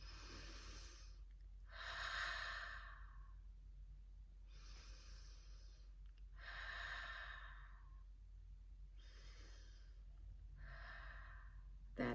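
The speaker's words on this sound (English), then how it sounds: "And then I take a deep breath and it just calms it down." Slow deep breathing during a morning mindfulness exercise: five or six long, soft breath sounds, each a few seconds long and separated by quiet pauses, faint and close with no talk.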